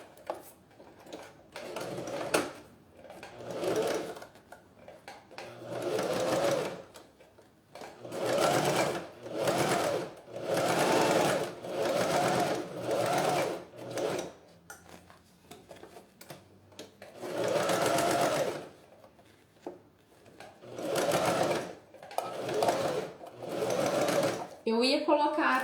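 A sewing machine stitches a small synthetic-fabric pouch in repeated whirring runs of a few seconds each, close and steady, with short pauses between them and a person talking at times.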